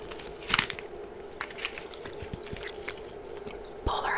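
Gum being chewed up close, with soft wet mouth sounds, lip smacks and small squishy clicks at an irregular pace, one sharper burst near the start, and no speech.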